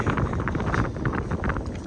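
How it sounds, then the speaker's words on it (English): Gusty wind on a chilly day on a Florida hiking trail buffets the microphone in uneven bursts, a rough, close rushing noise with no voices. "windy and chilly day"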